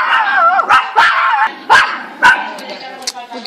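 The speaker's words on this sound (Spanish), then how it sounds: "Mira el pequeño como ladra, mira como Nico." A small dog yaps in several quick, sharp barks, close and loud, with voices chattering over and between them outdoors.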